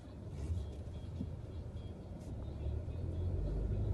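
A car drives with a low steady road rumble that swells louder toward the end, with no clear talk.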